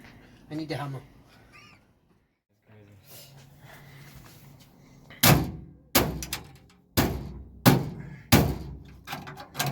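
Speech at first, then a series of loud, sharp metallic hammer bangs on a truck build at irregular intervals, each strike ringing briefly before the next.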